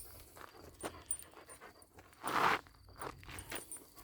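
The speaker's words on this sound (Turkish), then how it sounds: "şu anda Kangalı yürüyüşe çıkardım" A Kangal dog pants in quick breaths while walking, with soft footsteps and a louder burst of rustling midway, fairly close.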